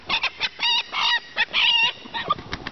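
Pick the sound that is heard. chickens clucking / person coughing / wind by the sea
chickens clucking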